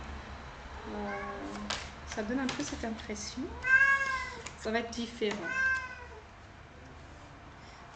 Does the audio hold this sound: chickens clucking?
no